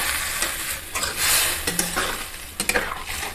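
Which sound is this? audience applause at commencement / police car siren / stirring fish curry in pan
stirring fish curry in pan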